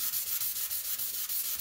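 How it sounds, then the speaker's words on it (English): Sandpaper worked by hand over painted furniture finished in all-in-one style paint makes a steady, close, rhythmic rasping of quick back-and-forth strokes, with no talk. "I'm sanding at this with sandpaper."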